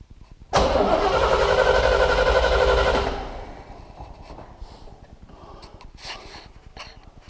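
A C3 Corvette engine cranks over during a compression test with a spark plug removed, a loud, rhythmic, close churning of the starter for about two and a half seconds. Quieter clicks and rattles follow.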